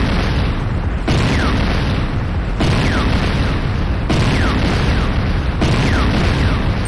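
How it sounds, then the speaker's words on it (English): A power plant exploding in the Renegade video game, a dense continuous roar of blasts and rumble with repeating bursts about every one and a half seconds, loud and close. "JDI power plant destroyed."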